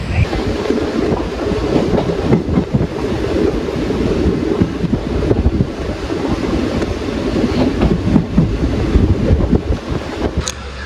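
Passenger train running steadily after leaving Pushpathur station in Tamil Nadu, a continuous loud rumble with rattling wheels and wind rush throughout, no talking.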